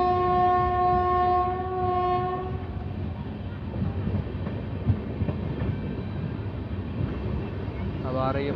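Lalkuan Howrah train pulls into Puranpur station on a calling-on signal to platform one, with a loud horn blast up front, then a steady rumble and rattle of wheels and carriages. A second horn starts near the end.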